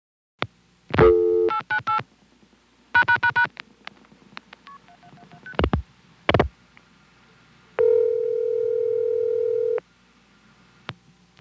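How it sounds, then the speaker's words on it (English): DTMF tones dialing 898 and the pound key on a Stromberg-Carlson ESC telephone exchange in Chancellor, Virginia, 1976: short clipped bursts of touch tones in groups, followed by a long steady signal tone, with quiet line hum between. "Let's try dialing 898 and press the pound key 4 times."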